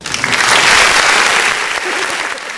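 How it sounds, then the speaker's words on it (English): Loud, dense applause bursts out on a podcast, a close wash of clapping that swells quickly and holds steady for a couple of seconds before easing slightly. "cue the applause"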